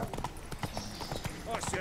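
Horse hooves clip-clopping in The Witcher 3, a rapid run of hoofbeats mixed with game sounds while someone talks over them throughout.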